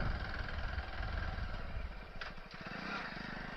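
A motorbike engine strains in first gear near Mallesvara temple, a steady close mid-pitched drone with a few brief throttle surges partway through, and no voices.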